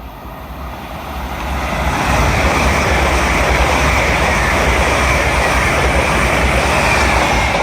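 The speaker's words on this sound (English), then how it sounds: "Pass through now will be a LNER Azuma working a service from London King's Cross to Edinburgh Waverley" An LNER Azuma train from London King's Cross to Edinburgh Waverley passes through Doncaster station. It swells quickly into a loud, steady, broadband roar that holds to the end.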